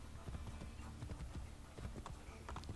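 Horse hooves clip-clop steadily at a trot in Assassin's Creed Brotherhood, a continuous rhythmic run of fairly loud hoof falls over game ambience.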